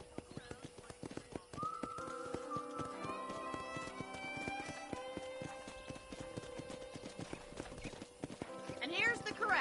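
Horse hooves clip-clop in a steady rhythm at a ranch corral in Red Dead Redemption, close and distinct, while people talk over the footfalls.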